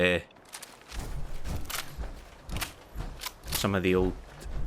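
Pistol gunshots in the video game Fallout 4: a run of sharp, loud cracks at irregular intervals, with a voice speaking over the later shots.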